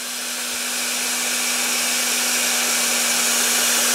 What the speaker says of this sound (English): all you do is screw it on. And it automatically deflates your tire.